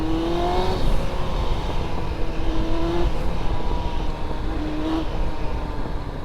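Yamaha R1 sport motorcycle engine running steadily after a carburetor cleaning and restore, a continuous loud drone with small shifts in pitch and no voices.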